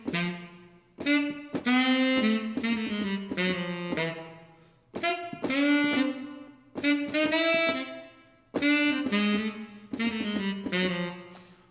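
A melody on a Broadway Big Band tenor saxophone, a melodic run of short and long notes in phrases separated by short pauses, close and clear with no talk.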